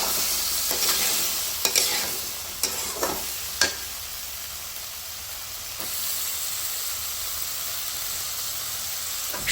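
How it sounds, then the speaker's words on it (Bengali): Potatoes, brinjal and flat beans stirred into a spiced masala for a fish curry, a steady loud sizzle and hiss throughout with several sharp spoon knocks against the pan early on. "সমস্ত সবজি মশলার সাথে নেড়ে ভালোভাবে মিশিয়ে দেব"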